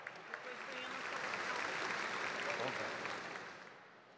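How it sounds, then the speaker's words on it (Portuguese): Audience applause at a formal solemn session honouring judges with a medal, swelling from faint to a full, even patter of clapping and then tapering off, with murmured voices mixed in. "Uma salva de palmas, por favor."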